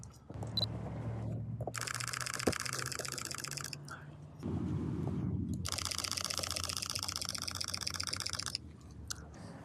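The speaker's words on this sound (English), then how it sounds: "And I'm gonna keep it at the burst mode so we can see what we can get." A single-lens reflex camera fires two long bursts of rapid shutter clicks during an action and sports photography shoot, each rattling run lasting a couple of seconds, close and loud over low handling rumble.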